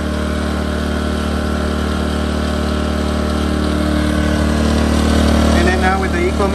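A portable generator runs in normal mode about five feet away, a loud, steady mechanical hum with a constant low drone; a voice speaks briefly near the end.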